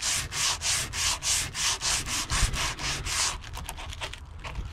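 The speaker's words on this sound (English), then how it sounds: "I am going to sand this junk off of here first" Weathered wood boat console dash being sanded, varnish coming off: loud, close rhythmic scraping strokes in a steady even pattern, then quicker shorter strokes toward the end, with no voices.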